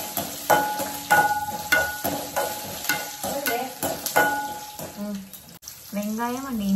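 Onion and ginger sautéing in a pan after whole spices such as cinnamon and poppy seeds were fried, with repeated stirring scrapes and a steady sizzle, close by, and some background voices and running water toward the end.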